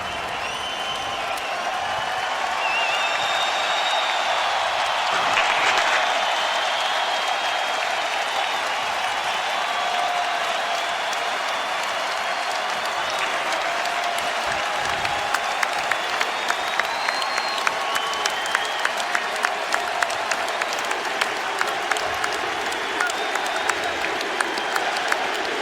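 A home basketball crowd in Miami gives Dwyane Wade a sustained ovation as he leaves his final home game, a long, steady roar of applause and cheering from a large arena, with scattered louder claps near the end.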